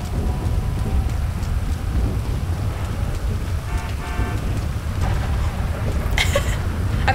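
Steady heavy rain with a rumble of thunder in GTA V during a lightning storm, a dense, continuous hiss over a low roll, with a few brief tonal blips partway through.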